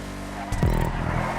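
A Declasse Tulip muscle car in GTA 5 drives with a steady engine drone, then revs up sharply midway with a rising engine note and a brief tire-scrub noise. It stays loud and close throughout.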